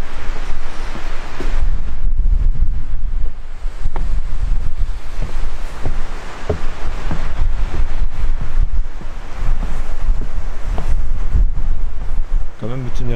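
Strong wind buffets the microphone on an exposed Norwegian coastal lookout, a loud, steady low rumble with gusty surges throughout, mixed with distant surf.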